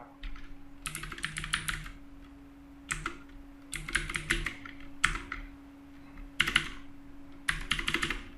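Clattering keystrokes on a computer keyboard as data is entered into a database table, coming in several quick bursts separated by short pauses over a faint steady hum.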